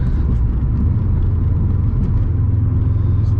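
Subaru WRX STI engine pulling hard under turbo boost after a downshift, a loud, dense, steady low rumble heard from inside the car with no voices.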